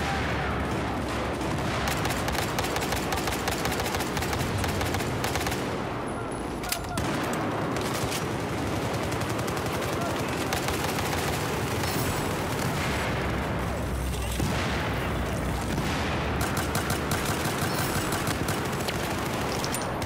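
Bulldog gun in a video game firing in single-fire mode, dense rapid gunshots and booms over a continuous loud battle din for about twenty seconds, with a player's voice heard intermittently.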